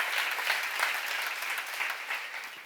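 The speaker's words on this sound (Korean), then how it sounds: "박수로 하자." A church congregation at a seminar breaks into steady, dense applause that fills the room and holds at an even level from start to finish.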